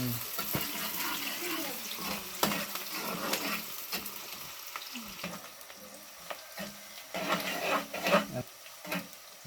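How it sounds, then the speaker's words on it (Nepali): Sliced onions frying in oil for a biryani garnish, giving a close, steady sizzle with stirring clatter and occasional water-like splashes, no talking. "यहाँ हाम्रो गार्निसको लागि ओनियन ओइलमा फ्राई हुँदैछ।"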